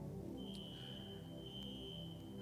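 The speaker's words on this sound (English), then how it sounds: "With these fire alarms," A building fire alarm sounds as a steady high-pitched electronic tone with faint periodic pulses, heard somewhat distant under a constant low rumble of room noise, with no one speaking.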